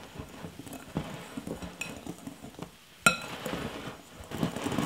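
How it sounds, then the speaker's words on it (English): Dry baking mix of flour, sugar, baking powder and salt whisked in a bowl, with irregular taps and clinks of the whisk against the bowl, one sharper clank midway, close and alone. "Now we're going to whisk that together."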